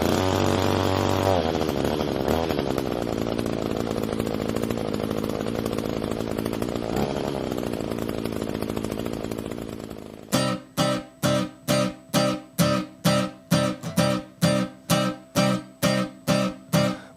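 Chainsaw played back from a video clip, a loud continuous engine drone for about ten seconds, then cutting into a rapid run of rhythmic revving bursts in regular pulses.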